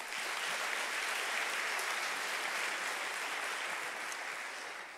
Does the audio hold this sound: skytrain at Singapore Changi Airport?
no